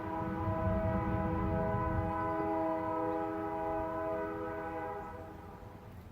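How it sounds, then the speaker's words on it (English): A train rolls past behind someone's place, its horn sounding one long, loud, sustained chord over the rumble of the cars. The horn fades toward the end and the rumble continues, with no talking. "and then you got a train in the back."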